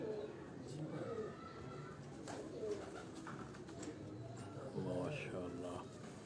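A pigeon kept in a crate gives soft cooing calls under the ongoing conversation of nearby men.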